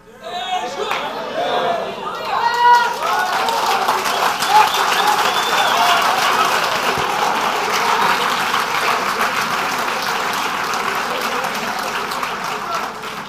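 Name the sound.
audience applauding in church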